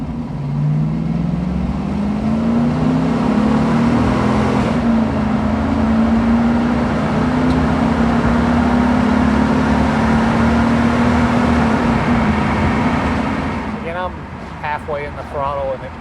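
A 2003 Cadillac Escalade with a 6.0-liter engine and all-wheel drive accelerates on a test drive, a steady, rising engine drone heard from inside the cab that fades at the end as a voice begins talking.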